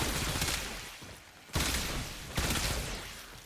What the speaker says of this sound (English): Shoot these guys in the head to get the deadhead stacks.